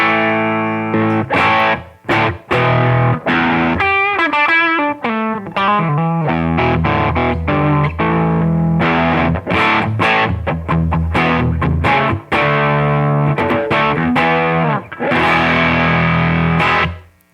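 Overdriven electric guitar through a Ramble FX Marvel Drive pedal, with a gritty, saturated drive tone, strummed chords and picked notes ringing out loud and continuous, no voices.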